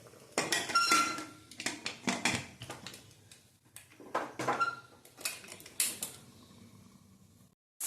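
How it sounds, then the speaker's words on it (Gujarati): A pressure cooker lid is fitted and locked shut with a close run of sharp metallic clanks, scrapes and rattles in uneven bursts, followed by a brief quiet. "અને હવે આપણે કુકરનું ઢાંકણ પેક કરી દઈશું."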